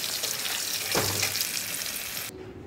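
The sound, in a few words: potatoes frying in a pan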